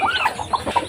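Chickens around eggs being hatched give a quick run of soft, close clucks in an uneven rhythm, lasting about a second.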